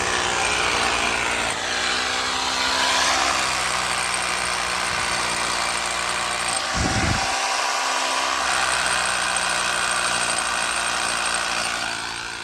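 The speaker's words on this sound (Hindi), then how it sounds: "इसी तरीके से 4 छेद करके इसमें फास्टनर लगाए जाएंगे।" A power drill bores holes in the metal stand for a Luminous 7.5 kVA NXT+ solar inverter installation, producing a loud, continuous motor whine that holds steady, with a brief low thud partway through.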